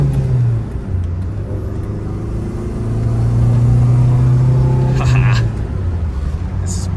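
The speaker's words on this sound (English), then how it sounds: "All those turbo noises are glorious." A 1986 Dodge Daytona Turbo Z accelerates on the road, its engine rising and falling through gear changes with turbo whooshes and whirs over a low rumble, heard from inside the car.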